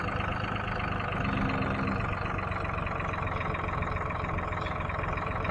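A tractor drives steadily in Farming Simulator 2013, its engine a continuous mid-low drone with a constant hum running the whole time, with no speech over it.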